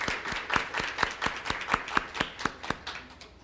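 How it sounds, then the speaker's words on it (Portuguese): A round of clapping at a public hearing on data culture: about fourteen distinct hand claps in a fairly steady rhythm, close and moderately loud, fading slightly toward the end with no talk over it. "Aliás, uma salva de palmas também"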